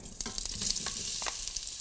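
Beetroot, potato and other vegetables sizzle in olive oil in a pot, giving a steady, close crackling hiss broken by stirring scrapes, with no talking.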